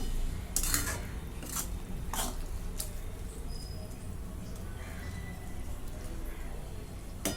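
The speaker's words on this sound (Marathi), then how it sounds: "कसुरी मेथी मिक्स करून घेते सर्व" Soybean chunk curry with kasuri methi being stirred in a pan, a few sharp scraping and clinking strokes of a spoon against metal early on, then quieter intermittent stirring over a low background hiss.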